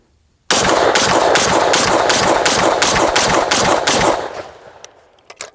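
An FN FAL rifle in .308 fitted with an FNC muzzle brake fires ten rapid, evenly spaced rounds, each a loud sharp crack with its echo running into the next, followed by the echoes trailing off and a few faint clicks.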